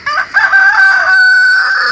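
A rooster crows loudly and close in a backyard flock of chickens, one long drawn-out call with a brief clucking lead-in, alone without talk.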